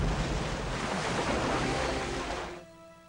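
Large 55-gallon steel drums welded together and dropped from a helicopter into the water hit with a big, roaring splash that washes on loudly for over two seconds before dropping away abruptly.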